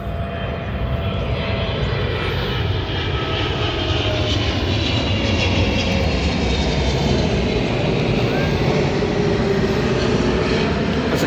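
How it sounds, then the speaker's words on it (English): A Cathay Pacific passenger airliner flies overhead near a railway station, its engine roar loud, broadband and steady for the whole stretch with no speech. "Got a plane behind me."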